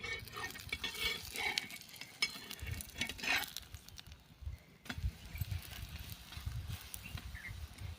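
Battered colocasia leaf sizzles and crackles on a hot griddle just after being flipped, with scraping and stirring clatter in bursts, close and fairly quiet.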